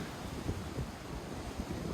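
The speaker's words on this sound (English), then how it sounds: "just look at how powerful these waves are" Powerful ocean waves at Puerto Limón, Costa Rica, make a steady low rushing roar mixed with wind buffeting the microphone, with no voices.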